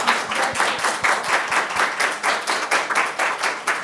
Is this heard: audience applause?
yes